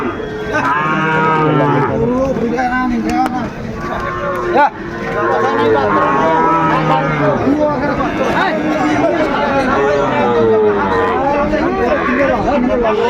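Sahiwal bull calves low now and then amid a busy cattle market crowd, with many people talking and chattering close by throughout.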